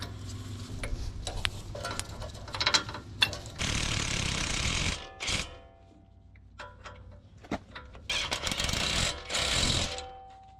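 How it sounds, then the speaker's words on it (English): Ratchet tightening brake caliper bolts on a 2020 RAM 1500 during a driveway lift kit install, giving several bursts of rapid clicking separated by short pauses, close and fairly loud with no talking. "Now I can put the brake caliper bolts back in."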